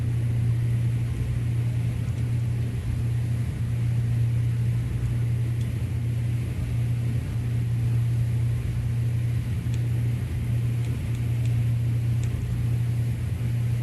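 The engine drone of a Piper PA44 Seminole in the X-Plane 12 flight simulator holds a steady, loud tone with a low rumble, unbroken for the whole stretch with no talk.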